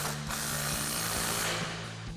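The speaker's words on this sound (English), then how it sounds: "we're gonna grab our ratchet with our 21mm socket and tighten that down." A ratchet with a 21mm socket tightens a track bar bolt on a Jeep Wrangler JL during a suspension lift install, giving a steady, close run of fast clicking strokes with no talking.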